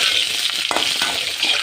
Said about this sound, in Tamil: அந்த வெங்காயத்தை அதோட போட்டு நல்லா வதக்கிக்கோங்க